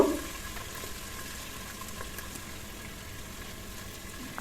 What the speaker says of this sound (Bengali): দিয়ে তেলের সাথে একটু ভালোভাবে নেড়েচেড়ে কষিয়ে নিব